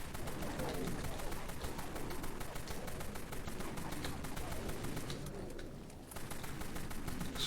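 Rapid gunfire from a video game outpost attack, a dense stream of repeated shots running almost without pause at steady loudness, briefly thinning near the end before resuming.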